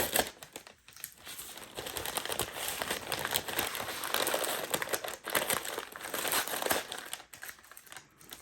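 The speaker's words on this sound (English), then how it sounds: "Take the tape off so I can recycle the bag" A Christmas gift bag being unwrapped, with its tape peeled off: close, continuous papery crinkling and crumpling in irregular bursts for several seconds, with no talk over it.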